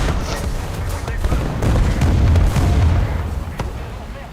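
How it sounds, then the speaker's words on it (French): Loud, rumbling booms of artillery fire in the War Thunder tank video game roll over a dense, noisy battlefield din, with a few sharper blasts standing out. "Tir d'artillerie."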